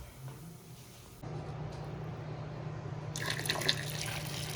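Hot water running from a tap while jars are cleaned for pickling, a faint steady stream that thickens and grows brighter partway through, with small splashes and drips near the end.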